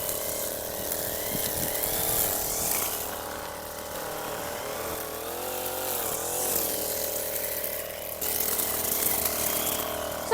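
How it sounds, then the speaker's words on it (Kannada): Backpack brush cutter with a thin wire line running at a high, steady whine and cutting through stalks on a farm, its pitch sagging slightly as it bites in. "ಇತ್ತೀಚೆಗೆ ನಮ್ಮ ರೈತರಿಗೆ ತುಂಬಾ ಇಷ್ಟ ಆಗ್ತಿರೋ brush cutter, back pack brush cutter"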